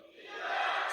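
A crowd at a Korean community forum in Washington D.C. shouts a chanted reply back, a single short swelling roar of many voices.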